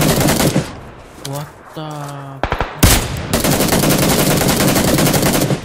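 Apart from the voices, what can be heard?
gunfire in PUBG Lite video game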